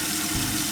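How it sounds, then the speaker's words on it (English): Water rushing steadily as a leaking toilet flush tank refills, with a blue fill lever that fails to shut off the flow; a continuous, close hiss and gurgle with no talk. "flash the tank, you see the water will go down, but once it is coming up"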